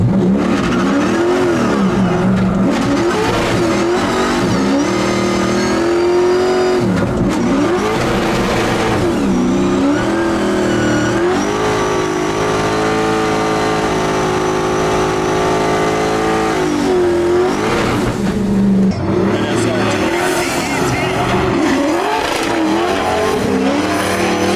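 A C6 Corvette with a swapped SR20 engine drifts at the LZ Invitational event, its engine roaring and revving loudly and continuously up and down, with bursts of tire squeal, close and unbroken, no talking.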